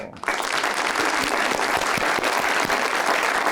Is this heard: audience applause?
yes